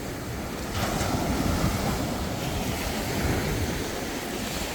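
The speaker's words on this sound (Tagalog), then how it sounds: "Lalaki alon." Steady roar of ocean surf with wind rushing across the microphone, a continuous broadband wash with no pauses.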